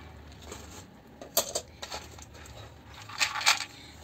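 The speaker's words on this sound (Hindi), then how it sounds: "3 टाइप की हमने छीमी डाल दी हैं" Dried local chhimi beans, red, white and brown, poured into a pot for Uttarakhand ras-bhaat, making faint scattered clinks and patters that rise into brief louder rattles near the end.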